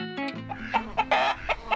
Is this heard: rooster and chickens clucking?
yes